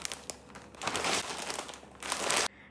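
Crinkling and rustling of plastic packaging while a Myntra parcel holding a saree is opened, in close, uneven bursts that swell and then stop abruptly.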